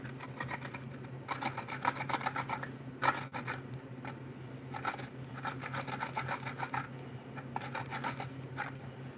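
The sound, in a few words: metal rasp from fire-making kit being scraped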